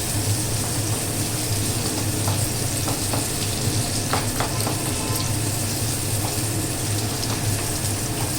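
Onion pieces fry in oil in a kadai, a dense, steady sizzle close by with faint scraping clicks from stirring throughout.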